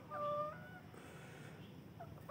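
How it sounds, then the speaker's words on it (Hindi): A white rooster and hens give a short gobbling, honking fowl call at close range, then quieter clucks follow, with no one speaking. "बाकी पीछे मुर्गी हैं और एक ये भी मुर्गी।"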